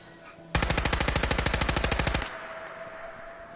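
An Uzi fires one fast, loud burst of about two seconds in the Fallout 4 video game, with dense evenly spaced rapid shots, then quiet room tone, no voices.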